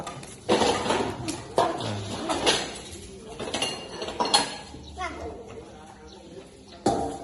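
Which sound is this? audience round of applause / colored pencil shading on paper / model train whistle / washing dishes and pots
washing dishes and pots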